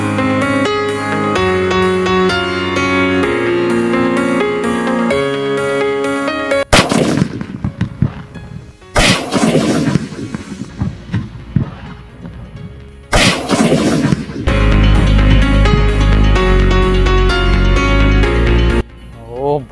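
An Aandhi Toofan Diwali firecracker goes off in a series of heavy, booming blasts and crackling bursts, loud and close, separated by short gaps, with music playing underneath at the start.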